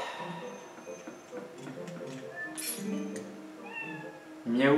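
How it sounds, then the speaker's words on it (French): A cat meows in the Zelda: Twilight Princess video game, a few short mews over quiet background music and game sounds, with a louder sound at the end. "Miaou le chat, tout mignon."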